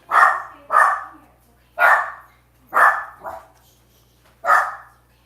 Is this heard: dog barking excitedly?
yes